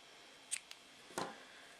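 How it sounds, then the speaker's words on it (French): Scissors snip through pink wool yarn while knitting a slipper, two quick quiet close cuts with a small click between them, over near silence with no talk. "je vais venir couper mon fil rose"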